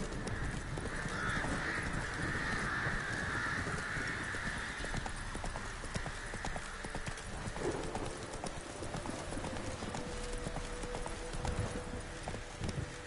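Hooves clatter in a steady galloping clip-clop as a horse runs in The Witcher 3 video game, set against a constant ambient bed with occasional crow calls.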